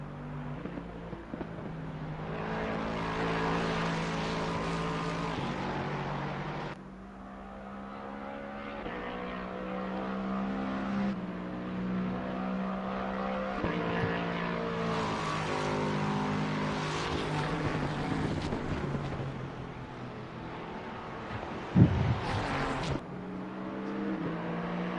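GT race cars, including GT2 BMWs, roar past at Silverstone during an eight-hour endurance race, engines droning and swelling continuously with overlapping passes and gear changes at moderate distance.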